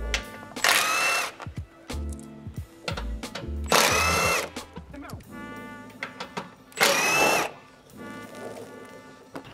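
Power tool, such as an impact driver, backing out 12mm skid plate bolts on a 2022-or-newer Toyota Tundra, heard as three loud, close bursts of whirring about two seconds long, separated by quieter clanking and handling noises.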